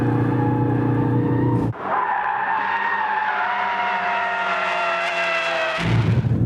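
A Ford Focus RS drifting in drift mode, engine droning loudly with rising pitch as the tires squeal through a long slide between harsher bursts of revving at either end.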